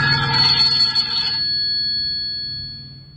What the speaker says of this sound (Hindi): इस मोबाइल के अंदर जो है रिंगटोन की आवाज़ किस तरह की रखी गई है।